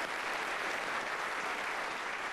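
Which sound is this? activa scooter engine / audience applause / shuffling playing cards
audience applause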